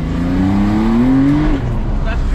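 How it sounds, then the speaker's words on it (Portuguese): A Porsche 992 sports car in Sport Plus mode revs its engine, pitch climbing steadily for about a second and a half before dropping off, loud and close, leaving a lower idle rumble afterward. "Vou dar uma aceleradinha pra vocês verem."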